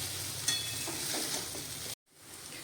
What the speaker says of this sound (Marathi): असे पोहे परतायचे मध्यम गॅस ठेवायचा आणि पोहे असे हलक्या हाताने हे परतत राहायचं